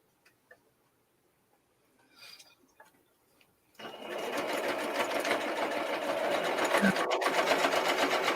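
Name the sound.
sewing machine sewing down the middle of a paper journal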